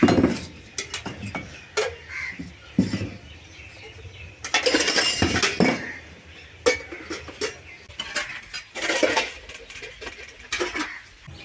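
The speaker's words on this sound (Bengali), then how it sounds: "এখন বাসনপত্রগুলো জায়গা মতো রেখে দেবো" Dishes, pots and pans are put away by hand: a series of irregular metallic clinks, clatters and knocks, some sharp and close, separated by brief quieter gaps.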